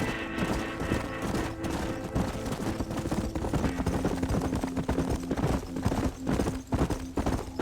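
Horses clip-clop steadily in Red Dead Redemption 2, the hooves beating in a brisk repeated rhythm throughout, up close and fairly loud, over a low game-world background with bursts that sound like distant gunfire.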